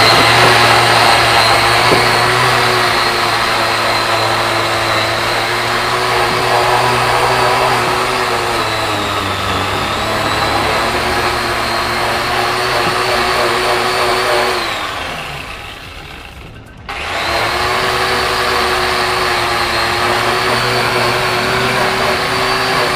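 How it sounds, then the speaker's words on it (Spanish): A polishing grinder cleans the valves of a Honda CBF 150 motorcycle, giving a loud, steady motor whine with a constant hum that dips sharply for a moment near the end before running on at full strength. "Tenemos la pulidora y procedemos a limpiar"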